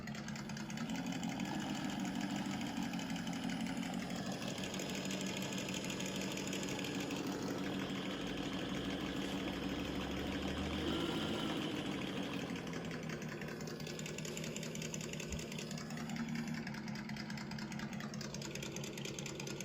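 Simulated engine noise from a Traxxas TRX4 RC car's sound unit: a steady, close mechanical drone that holds for the whole stretch, its pitch sliding up and down a few times, with no talking.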